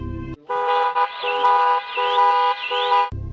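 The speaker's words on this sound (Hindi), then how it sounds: "अचानक उसकी कार का अलार्म बजने लगा" A car alarm blares close by in repeating electronic tones that rise and fall in pulsing cycles, then cuts off abruptly.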